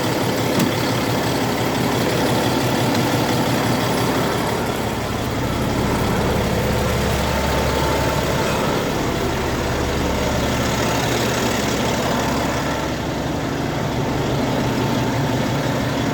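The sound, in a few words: truck engine idling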